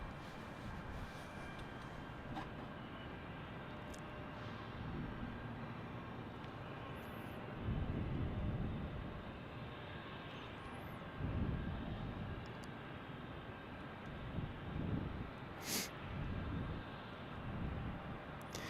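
A United airliner at Salt Lake City airport gives a continuous broad jet roar at a distance, steady and moderately loud, with a few swells as it passes.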